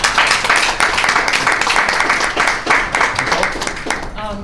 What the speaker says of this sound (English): I'd like to give them a round of applause for all they've done.